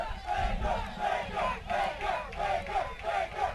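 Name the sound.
soccer fans cheering in the stands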